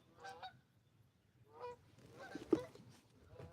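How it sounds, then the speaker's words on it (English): Geese honking outdoors along a shoreline at sunrise: several separate, moderately distant honk calls in short bursts, with quiet gaps between them and a faint outdoor background. "Oh, and the geese."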